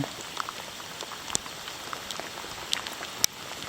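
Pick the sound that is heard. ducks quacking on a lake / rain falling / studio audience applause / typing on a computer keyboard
rain falling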